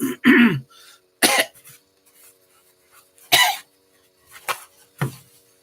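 A few sharp, separate coughs and throat clearings break a quiet room, each short burst standing alone with pauses between.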